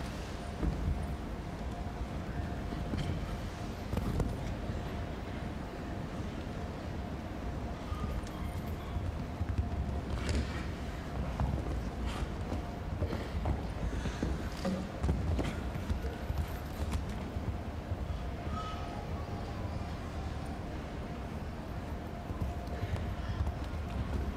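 A show jumping horse's hooves clip-clop in a steady galloping rhythm at the 2013 FEI World Cup Final, over a constant background hum, fairly faint and continuous throughout.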